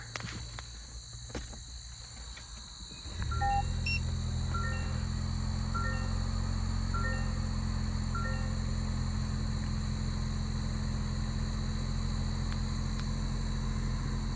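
A 2024 Toyota Land Cruiser engine starts after a brief crank, then settles into a steady, quiet low idle heard from inside the cabin, with faint electronic chimes over the hum.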